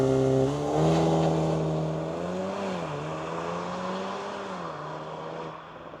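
A VW Golf R Black Edition launches from a standstill in Race mode with ESC Sport, its engine note climbing loud and close through the gears with short dips at each shift, and no talking.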